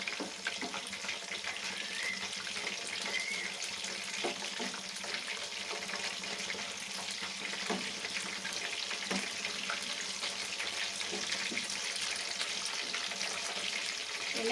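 Food deep frying in hot oil on a medium flame, giving a steady broadband hiss that stays even and continuous throughout at moderate loudness.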